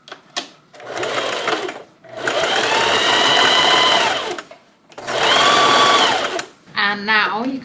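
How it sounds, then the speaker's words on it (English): A sewing machine stitching elastic runs in several long, steady whirring bursts separated by short pauses, close and loud, with a brief rattling mechanical sound at the end. "you can take this off your machine when you're doing something round so that it can fit underneath while you're sewing"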